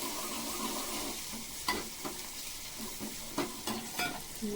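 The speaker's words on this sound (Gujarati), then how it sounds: "જો આપણે આ બટેકાનો વઘાર ચાલુ છે" Potatoes sizzle in hot tempering oil, a soft continuous crackle broken by several sharp stirring scrapes and clinks, fairly quiet and without talk.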